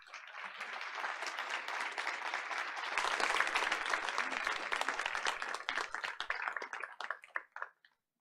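An audience at a school board of education meeting applauds steadily, a dense patter of many hands that swells midway, then thins into scattered claps and stops.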